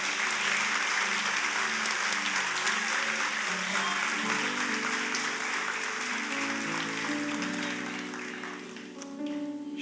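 A church congregation at a Sunday evening service applauds in loud, sustained clapping over a musical backing with held tones, the applause carrying evenly before easing slightly near the end.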